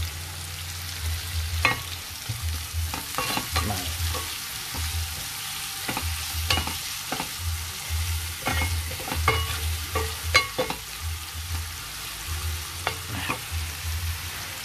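Chopped onion and garlic frying in a pan with salt, a steady sizzle broken by repeated sharp scrapes and stirring knocks spread through the whole clip, no voices.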